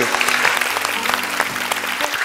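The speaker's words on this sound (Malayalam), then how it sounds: "ഒരു നല്ലൊരു കൈയടി നിറഞ്ഞ കൈയടി കൊടുക്കണം" Studio audience on a televised singing show bursts into sustained applause, dense clapping filling the whole stretch with a musical tone humming low underneath.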